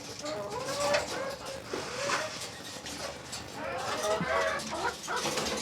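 Several hens cluck and squawk close by in irregular bursts, their calls overlapping against a busy farmyard background.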